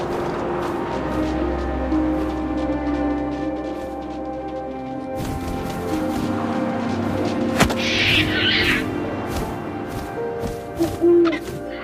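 An owl in What Remains of Edith Finch gives soft hoots over a windy outdoor bed, with low rumbling and a few sharp thumps and rustles later, no one speaking.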